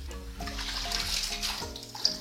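Water drains off a bunch of freshly soaked hydrangea flowers in a steady, close splashing trickle with small irregular drips.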